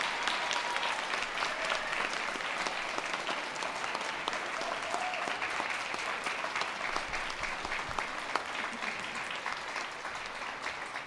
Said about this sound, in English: could I please ask you to give a round of applause for all those people here and elsewhere who have helped, inspired, encouraged you